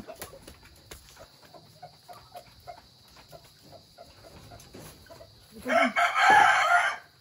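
Chickens on a farm where goats are kept cluck in a steady run of short, evenly spaced calls, and a rooster crows loudly and up close near the end.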